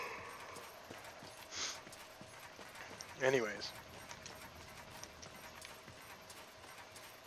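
In Darksiders 2, a horse's hooves clip-clop faintly in a couple of short bursts under quiet game ambience. Someone speaks briefly over them.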